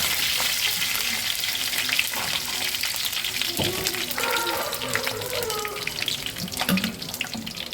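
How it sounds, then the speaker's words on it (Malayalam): Curry leaves and green chillies hit hot oil for a fish pickle, giving a dense, continuous crackling sizzle with occasional louder pops and clinks nearby. "കരിയാപ്പില ഇട്ട് കൊടുക്കാം. കുറച്ച് പച്ചമുളക് ഇട്ട് കൊടുക്കാം."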